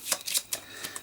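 Brief close-up card shuffling, a few quick papery riffles and slides in about a second.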